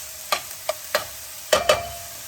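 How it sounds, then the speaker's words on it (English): Upma ingredients fry in a pan while a spoon stirs them, giving a soft steady sizzle broken by five distinct scraping strokes against the pan, close and without talk. "So let's fry it a couple of minutes until everything is cooked."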